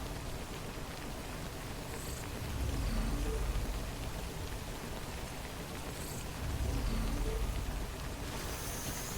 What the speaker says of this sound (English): I could just wait maybe for the rain to pass